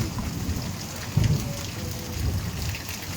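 Steady rain falls during a thunderstorm in Halvad, with a low rumble of thunder swelling around the middle and again near the end beneath the constant patter.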